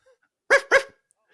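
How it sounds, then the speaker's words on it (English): A puppy lets out two quick, close barks in a row, clear and fairly loud against an otherwise quiet room. "my puppy's down at my feet right now"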